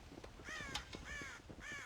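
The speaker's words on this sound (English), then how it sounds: "God damn crows!" Crows at a farm silo in the video game Red Dead Redemption give several harsh caws in a loose rhythm. The calls are fairly faint and distant, with no talking over them.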